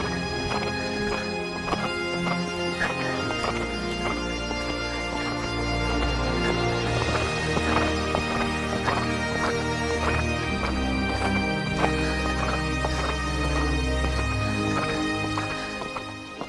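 A horse moving in a riding arena at a steady, even cadence, its hoofbeats repeating evenly for the whole stretch beneath a dense layer of music, with no talking.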